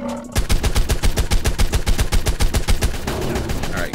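Rapid automatic gunfire from a gun in the mobile game Ark Survival Evolved, loud and close, a steady hammering burst of evenly spaced shots lasting several seconds.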